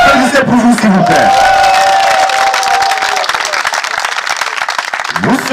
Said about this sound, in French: Applaudissez pour vous, s'il vous plaît.